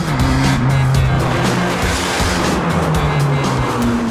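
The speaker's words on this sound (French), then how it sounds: "Et puis la sonorité à l'échappement aussi, bon, elle est, disons, assez forte." A loud, continuous Abarth 595 Competizione engine and exhaust roar, steady and close, with a low droning tone that shifts slightly in pitch; no voices.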